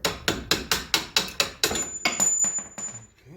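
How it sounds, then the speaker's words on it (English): Steel hammer blows knocking out strut bolts on a Nissan Sentra, about a dozen sharp metallic strikes in a quick steady rhythm, loud and close with ringing decay, no talking. "now I'm going to go ahead and hit out these bolts right here."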